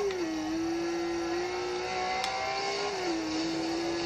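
Car engine in a racing video game holds a steady mid-pitched drone that rises and dips slightly as the throttle shifts, continuous and fairly quiet with no talk.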